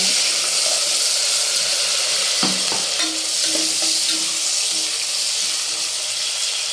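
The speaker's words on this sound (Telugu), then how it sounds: "ఆనియన్ అనేది మనకి త్వరగా వేగుతుంది" Thinly sliced onions, salted, fry for chicken fry biryani with a loud, dense, continuous sizzle and a few faint stirring knocks partway through.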